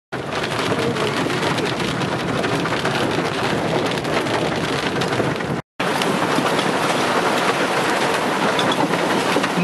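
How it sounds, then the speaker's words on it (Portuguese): Steady, heavy rain in northern Paraná, Brazil, pours down in a dense, constant hiss, briefly cutting out for an instant before resuming. "Muito bom, chuva no norte do Paraná."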